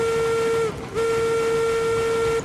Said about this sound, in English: Give another toot on the whistle.